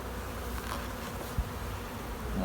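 Honey bees buzz in a spring hive opened after months, one with a single or double brood chamber, making a dense, steady, faint drone with a soft knock partway through.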